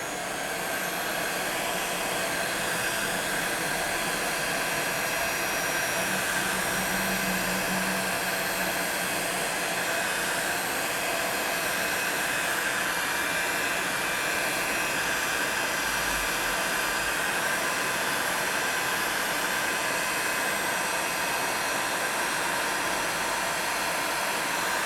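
A heat tool blows steadily and loudly over a polymer clay bracelet being cured, a constant whooshing hiss that runs without pause for the whole stretch, with no talking.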